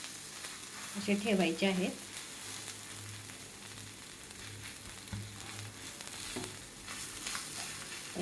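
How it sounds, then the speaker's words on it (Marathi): Cut pav bread is stirred into butter in a hot pan while making Mumbai-style pav bhaji at home, giving a steady, soft sizzle with a few scraping stirs, under someone talking quietly. "आपण हे जे पाव कट करून घेतलेले आहेत ते यामध्ये असे मिक्स करायचे"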